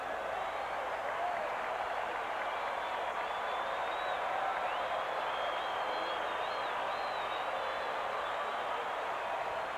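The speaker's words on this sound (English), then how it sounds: "Crowd getting into it again." Distant baseball stadium crowd at a 1989 Pirates vs Mets game, a steady wash of cheering and applause that holds even throughout with faint whistles rising above it.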